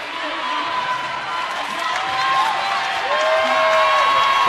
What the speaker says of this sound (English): Crowd getting loud here at Dominican College.